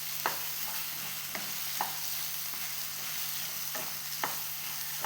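Bananas sauté in a hot pan with a constant soft sizzle, broken by spaced, brisk scrapes of a spatula every half second or so, over a faint steady hum.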